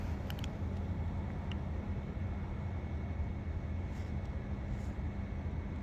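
Another car's exhaust drones nearby at a car meet, a steady low rumble with a broad noisy wash and no distinct revs or talking.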